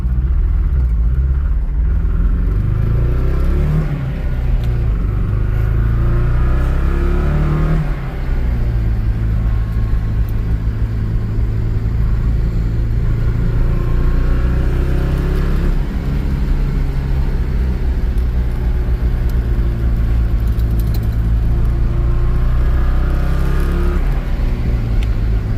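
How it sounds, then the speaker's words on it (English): A 1982 Porsche 924 turbo idles steadily with a flow-through muffler, a loud, continuous low rumble close by with a slight dip in revs partway through, no talking. "See what the idle does here, if it drops down."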